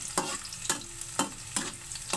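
Garlic sautéing in a pan for Filipino pakbet, a soft steady sizzle broken by five evenly spaced scraping stirs about half a second apart, close and alone with no talking.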